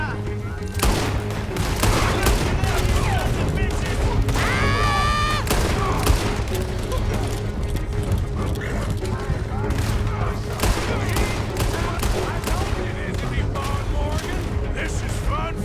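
Video-game gunfire rattles continuously in dense, rapid bursts, loud and close, with a brief tonal sweep and faint voices mixed in.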